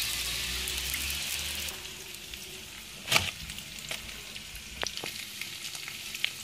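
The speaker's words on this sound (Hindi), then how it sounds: "साथ में आलू अंडे की भुजिया बना रही हूँ" Potato and egg bhujia frying in oil in a pan, a steady close sizzle that eases after a couple of seconds, broken by a few clatters of stirring, with no talking.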